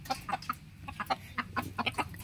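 Four captured jungle fowl from a Malaysian forest cluck in quick, irregular bursts, close and moderately loud with no talking.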